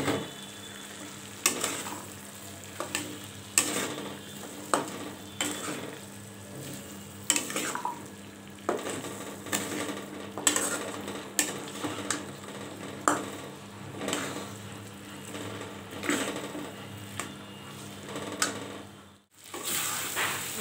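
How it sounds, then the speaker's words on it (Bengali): Potatoes and beef liver stir-fry in a pan, a steady low sizzle punctuated by regular scraping and clinking strokes of a spoon against the metal, close and moderately quiet. "এখন আলুটা দিয়ে ভালোভাবে কষিয়ে নেব।"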